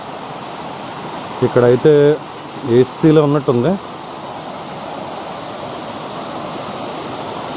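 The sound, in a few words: waterfall flowing over rocks, Dharamatam near Lambasingi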